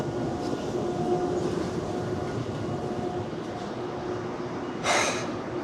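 A Seoul Metro Line 1 subway train rides from Seodongtan station with a steady low rumble and rolling noise inside the car, plus a brief hiss near the end.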